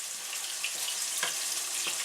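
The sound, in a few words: chopped steak patties frying in a pan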